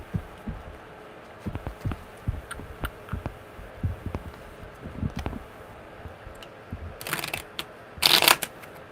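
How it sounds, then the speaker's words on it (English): Tarot cards shuffled by hand in a run of soft, irregular riffling taps and slaps, with a few sharper bursts of card noise near the end. "One more good shuffle."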